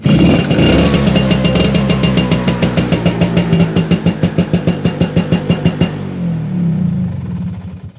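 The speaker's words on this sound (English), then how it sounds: "It's got a PX200 engine in it, and it's tuned, got a sports exhaust on it, so listen out" A classic Vespa scooter with a tuned PX200 engine and sports exhaust revs hard with a rapid, pulsing exhaust bark for several seconds, then drops back to a lower, rough idle.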